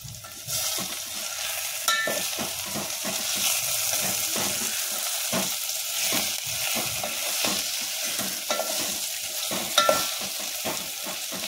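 An egg with turmeric and salt sizzles steadily in a frying pan while it is stirred, with repeated scraping strokes and a few sharper clinks from the spatula over a constant hiss, close by with no talking.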